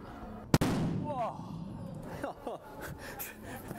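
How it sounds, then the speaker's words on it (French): A hydrogen-oxygen gas mixture detonates after a small flame ignites it, producing one sharp, loud bang followed by a brief decaying rumble, with people talking quietly afterward. "La violence de l'explosion, c'est extrêmement puissant"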